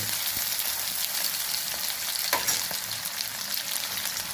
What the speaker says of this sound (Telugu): దోరగా వేపుకొని